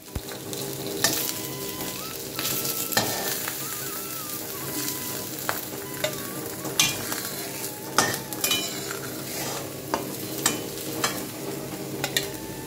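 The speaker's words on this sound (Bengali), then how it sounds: "আমি মাছগুলো শুধু ভেজে নেব, এপিট ওপিট করে ভেজে নিলেই হবে" Fish frying in a pan in a home kitchen, a steady oil sizzle under repeated scraping and clinks of a spatula as the pieces are turned, with no talk.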